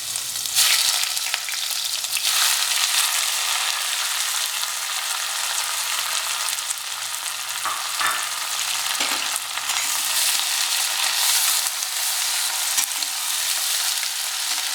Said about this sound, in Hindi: प्याज को हम गोल्डन ब्राउन करेंगे।